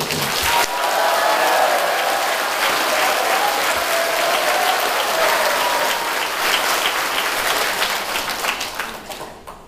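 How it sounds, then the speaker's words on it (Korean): Loud, enthusiastic applause from a crowd at a political party's first-anniversary ceremony, many hands clapping steadily for several seconds and then thinning out at the end. "박수 한번 잘해주세요"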